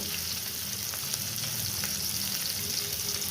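Potatoes and onions fry together in a pan for aloo googly, giving a continuous close sizzle of hot oil with occasional soft clicks of stirring and no talk.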